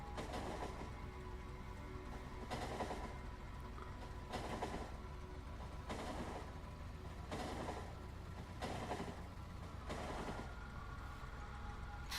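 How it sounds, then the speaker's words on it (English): A train in a video game runs with a continuous low rumble under repeating rhythmic bursts of rattling noise every second or so, steady and moderately quiet throughout. "Right, I'll just catch the train back."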